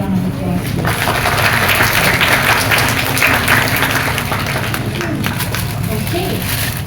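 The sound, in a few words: audience applause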